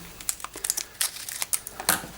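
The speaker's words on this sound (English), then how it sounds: "I'm going to use a pair of scissors just to do this." Crinkling plastic of a piping bag rustles and snaps in quick irregular bursts as scissors snip off its tip, close and fairly quiet.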